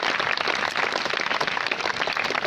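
Sustained applause from an audience at a school prize ceremony honouring prize-winning students, a dense, even wash of clapping that runs steadily throughout without breaks.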